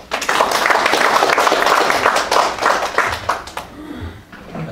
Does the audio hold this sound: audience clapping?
yes